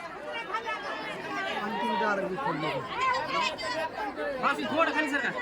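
Many voices from a large gathering of construction workers at a Latur free-goods handout murmur and chatter together, an unbroken, moderately loud hubbub with individual voices rising briefly out of the mass.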